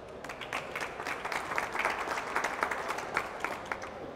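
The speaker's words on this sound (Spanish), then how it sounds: "Queremos un aplauso a Betty Quintana." Steady applause from an audience at a World Psoriasis Day event, moderately loud and continuous for about four seconds, with no speech over it.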